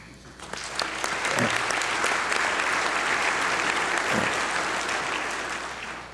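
A large audience in Chicago applauds a United Nations Secretary General's speech, full sustained clapping that swells quickly and holds evenly before easing off slightly at the end.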